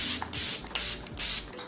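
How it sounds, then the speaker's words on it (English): Several quick spritzes of a matte makeup setting spray (Milk Pore Eclipse) hiss in short bursts, each a soft airy mist close by, with brief pauses between them. "I'm going for my Milk Pore Eclipse Matte Setting Spray."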